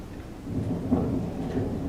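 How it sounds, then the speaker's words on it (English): Pouring rain with a low rumble of thunder beneath it, a steady dense wash of sound with no talk. "It's been pouring and thundering."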